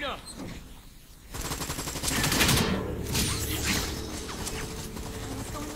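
Sustained bursts of gunfire in Resident Evil 6 rattle loudly and densely for several seconds as action-game combat plays, with talking mixed underneath.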